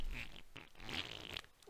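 A man vocally imitates a long fart with a drawn-out, sputtering blown noise, close and fairly loud, breaking into a few bursts.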